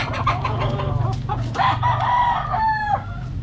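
Roosters crow and hens cluck at a gamefarm, several birds calling close and loud in overlapping bursts, with long drawn-out crows toward the end.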